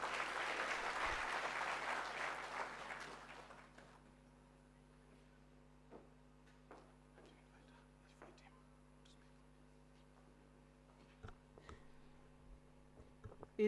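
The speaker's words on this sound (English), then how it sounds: "Give her a hearty clap as he comes." Applause from an audience at a Chancellor's student town hall washes through the hall for about four seconds, then fades to a quiet room with a low hum and scattered faint clicks and shuffles.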